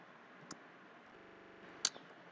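Two sharp computer mouse clicks, the second louder, over a quiet steady background hum while installing Windows 10 in VirtualBox.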